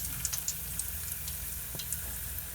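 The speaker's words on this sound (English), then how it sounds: "Just drop them into the oil." Jamaican flour dumplings frying in hot oil, a steady close sizzle with small crackles and pops throughout, no talking.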